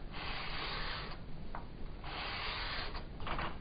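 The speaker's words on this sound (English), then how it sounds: "if you use a sanding block like this, you can keep getting new areas to work." A sanding block rubs back and forth in long, even strokes over the part of a PC liquid-cooling reservoir, making a dry, scratchy abrasive hiss with brief pauses between passes, heard close up and alone.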